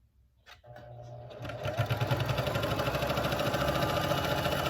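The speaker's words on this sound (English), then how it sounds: "we're going to just do a regular stitch, and we're gonna back stitch it a couple, stitches, and then just start the full sewing process" A sewing machine runs a straight stitch through fleece blanket fabric, starting after a brief pause and settling into a loud, steady, fast mechanical whir with rapid needle clatter that holds to the end.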